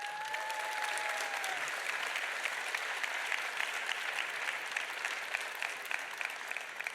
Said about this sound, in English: Round of applause for my dad,